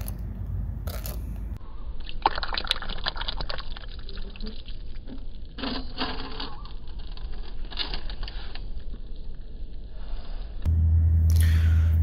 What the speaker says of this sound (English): When I poured it in, there was a little tiny bit of bubbling that happened.